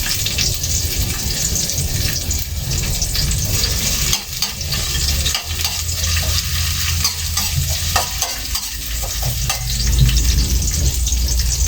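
Sautéing in a pan for ginisang sigarilyas (winged beans): a steady, close sizzle of frying with stirring and scraping runs throughout, with no talking.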